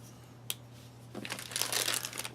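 A packet of powdered milk from a Russian Federation IRP ration being struggled open, with a sharp crinkle followed by a burst of loud plastic crinkling and tearing, close and with no talking.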